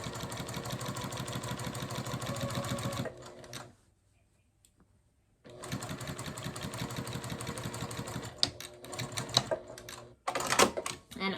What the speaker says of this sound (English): And I will back stitch.